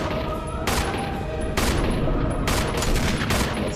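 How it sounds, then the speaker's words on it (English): Rocket launcher blasts aimed at the Tyrant in the Resident Evil video game, heard as several loud, sharp bursts in quick succession over a steady, noisy game soundtrack. "Rocket launcher, yes!"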